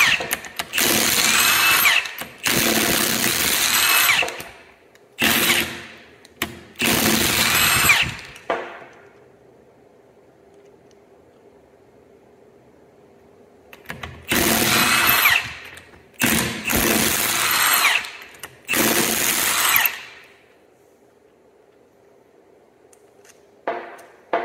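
Milwaukee power tools spinning out ring gear bolts on a Jeep Wrangler JK Rubicon Dana 44 axle, loud repeated bursts of high-speed whirring and rattling, several in quick succession, then a pause with a faint hum before another run of bursts.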